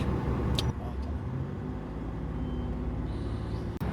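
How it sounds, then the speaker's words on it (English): Busy Istanbul street traffic rumbles around a car, a dense near wash of engines with a couple of brief sharp hisses, steady and loud throughout. "Traffic."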